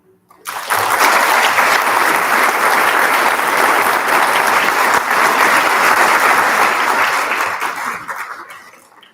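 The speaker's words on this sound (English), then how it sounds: "One more time, a round of applause for Windsor's own Amy Fancher." Audience applause at a school National Junior Honor Society induction ceremony in Windsor, loud, dense and sustained for about eight seconds before tapering off.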